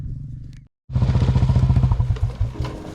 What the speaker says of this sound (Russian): Глуши мотор.